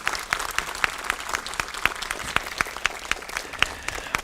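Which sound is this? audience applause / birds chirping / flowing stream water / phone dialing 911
audience applause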